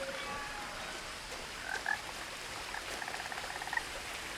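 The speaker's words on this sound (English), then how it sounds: "I can hear a frog." Frogs croak in What Remains of Edith Finch over a dense outdoor chorus of chirps and patter. The croaks come as repeated, pulsing calls at moderate distance, with no voices.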